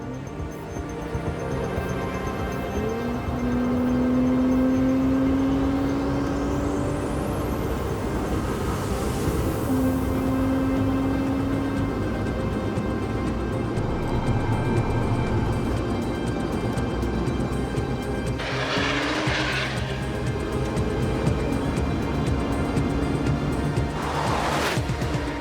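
A test car laps the Nardo high-speed circuit in southern Italy, a steady high-speed engine and tyre roar sustained for the whole stretch, with a whine rising briefly and gusting rushes near the end.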